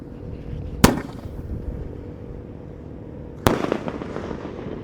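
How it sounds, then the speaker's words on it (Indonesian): Two mercon elang firework rockets burst high in the air, each a sharp loud bang about two and a half seconds apart, followed by crackling and rumbling echo over steady outdoor background noise. "lanjut yang kita nyalakan di sini ada mercon elang mas"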